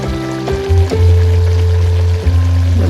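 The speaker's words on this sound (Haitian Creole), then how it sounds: "On va mettre l'eau." Water poured into a pot of Haitian soup made with spinach and a stock cube: a steady, full splashing stream close by, briefly interrupted twice, with no voices.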